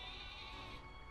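A sheep bleat from the video game Pokémon Sword & Shield, a single sustained nasal cry heard alone at moderate level.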